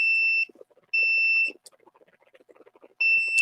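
An alarm set off by a wearable body sensor gives repeated shrill electronic beeps in loud, steady bursts separated by gaps, with faint clatter and murmur between them.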